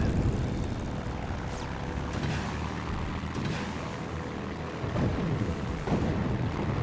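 Propeller warplane engine roaring steadily in World of Warplanes as the fighter dives to attack an IL ground-attack plane with rockets, a loud continuous drone with slight swells and no speech.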